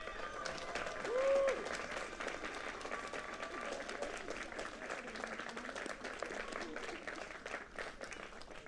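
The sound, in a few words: applause for doctoral recipients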